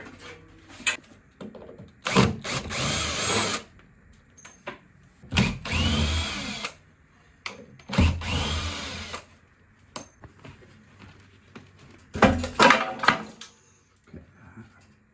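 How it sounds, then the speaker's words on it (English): A power drill bores through a wooden window shutter in a Mediterranean villa renovation, buzzing in several separate bursts of a second or two, loud and close, with quiet pauses between. "I drilled a hole through the shutter"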